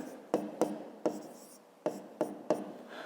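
A pen or pencil writes by hand during a maths exercise, a quiet scratching broken by about seven sharp taps at irregular intervals, close and faint with no talk.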